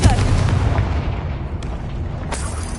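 A fire-spell explosion in the Hogwarts Legacy video game booms loud and close with deep rumbling bursts, followed by lighter crackling hits.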